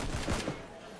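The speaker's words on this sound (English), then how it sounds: "He did hear all the gunshots." Several rapid gunshots burst out in a quick fusillade in the battle royale game PUBG, sharp cracks in the first half second fading into a quieter tail.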